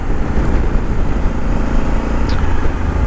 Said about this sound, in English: oh, it does sound lovely. It's very throaty.